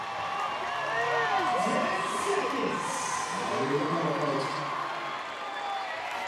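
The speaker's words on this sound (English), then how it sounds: "These are the fun moments where the crowd's up, they're all screaming" A stadium crowd at the Rogue Invitational fitness competition screams and cheers continuously, a dense roar of many voices with rising whoops throughout.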